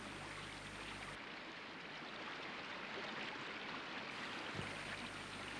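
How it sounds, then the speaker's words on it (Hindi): The flowing water of the Ganges river makes a steady, even rushing wash that fills the scene without voices, holding at a constant level throughout. "राम, ये पवित्र गंगा नदी तुम्हारे पूर्वजों की देन है।"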